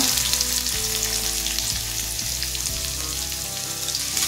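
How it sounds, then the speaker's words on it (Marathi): Onion sautéing in a pan with cumin and mustard seeds, a close, steady bright sizzle with soft stirring scrapes and a low hum running beneath. "कांदा व्यवस्थित परतून घ्यायचा"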